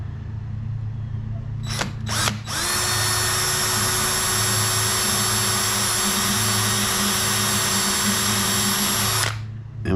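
A power drill drives screws into a pine workbench: two brief trigger bursts, then one long, steady, high whine for about seven seconds before it stops.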